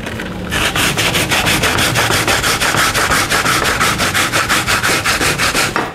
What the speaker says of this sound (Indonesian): Selanjutnya kita mau parut kelapa